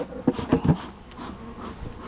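Honeybees buzz around beehives at an apiary during a November inspection, with several loud close passes early on, then a fainter steady hum of the swarm.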